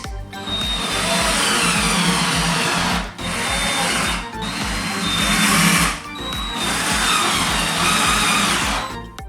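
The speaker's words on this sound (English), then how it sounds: "Now we're also gonna fasten these ones right here with the E-screws" A power driver fastens screws while a Flexispot E7 standing desk is assembled, three loud whirring bursts of a few seconds each with brief pauses between them, no speech.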